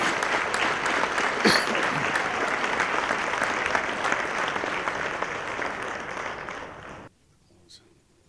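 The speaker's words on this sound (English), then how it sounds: "Let's get a round of applause to all these individuals who have served this city for 10 years." Sustained applause from an audience at a State of the City ceremony honoring city board members for ten years of service, steady for about seven seconds and then cutting off abruptly into near silence.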